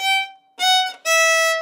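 Three bowed fiddle notes played in quick succession, the middle pair linked as one stroke, bright and clear with no other sound.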